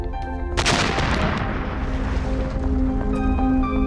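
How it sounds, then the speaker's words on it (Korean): A cannon fires a cannonball with a sudden loud boom that rolls into a long, rumbling decay lasting several seconds. "대포에서 포탄을 발사하면 적당한 거리를 날다가 지구로 떨어집니다."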